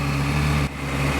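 A Ferrari 360 Spider engine idles steadily nearby, its exhaust holding a smooth, even drone throughout with a brief dip midway and no talking.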